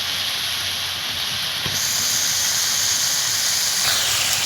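Hot water poured into chicken curry in a hot pot, home village-style cooking, sets off a loud, close, continuous steaming hiss and sizzle that shifts in tone partway through.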